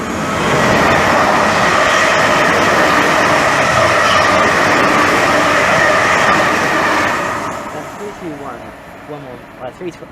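Class 318 and 316 passenger trains pass through Romford station in a loud, sustained rush of rumbling wheels and rattling carriages. The roar fades after about seven seconds to quieter clatter and faint squeals.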